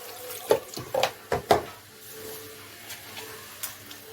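Water is poured in small splashes into bread dough for Syrian-style flatbread, a few short bursts of trickling liquid close up early on, then quieter handling sounds.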